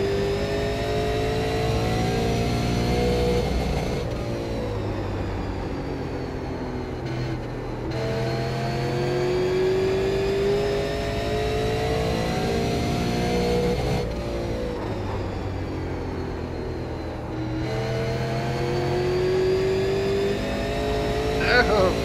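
A super late model race car's engine roars through a hot lap in the iRacing simulator, loud and steady with rising revs and periodic lifts through the corners, while a voice talks over it.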